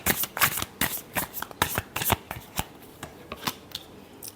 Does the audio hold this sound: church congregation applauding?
no